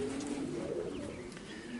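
Line-bred racing pigeons coo steadily in a low, continuous murmur throughout, a close flock sound with soft overlapping calls and no talking.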